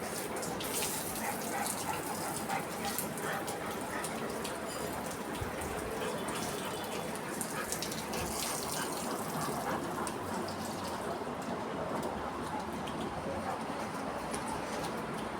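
Water pours and gushes steadily while a pet dog is being bathed in hot weather, a continuous, fairly soft splashing stream that runs the whole time with no clear pauses.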